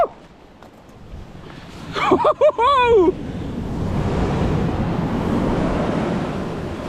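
Sea waves breaking on the shore at Whitby: wind buffets the microphone, a person lets out a brief whoop, then a broad, loud rush of surf swells up and keeps splashing close by.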